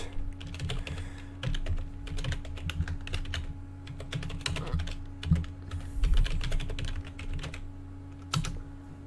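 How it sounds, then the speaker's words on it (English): Close, rapid clacking of a computer keyboard as a web link is typed, bursts of keystrokes with short pauses over a low steady hum, no speech. "I will just type here the actual link"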